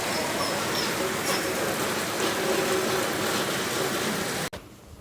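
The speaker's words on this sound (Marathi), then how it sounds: "पाऊस तर जोराचा येत आहे" Heavy rain pours at night at 11 pm and spills into a bucket. A dense, constant hiss holds for several seconds before cutting off abruptly near the end.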